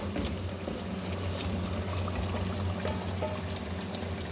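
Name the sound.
taro pieces added into fried masala in a pot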